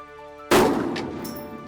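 A single loud rifle shot firing ballistic ammunition at a hunting range cracks sharply out of quiet, then decays into a long rumbling echo.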